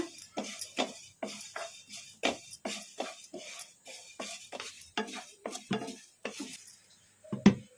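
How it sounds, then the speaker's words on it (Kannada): Sesame seeds stirred with a spoon in a hot kadai, a steady run of sharp scraping and clinking strokes against the metal, close and with no talk. "ಈಗ ಇದಕ್ಕೆ ಒಂದು ಸ್ಪೂನಷ್ಟು ಎಳ್ಳು ಹಾಕೋಣ ಈಗ ಕಲಿಸ್ಕೊಂಬಿಡೋಣ"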